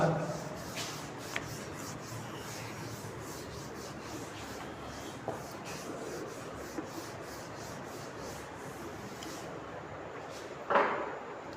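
A duster rubs writing off a classroom board in a maths class, producing steady scraping strokes throughout, close and moderate, ending with a sharper swipe.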